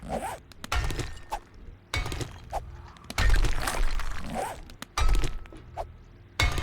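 Concrete being smashed in the survival video game 7 Days To Die, with several heavy thunking, cracking impacts about once a second, loud and close, each followed by a brief crumbling tail.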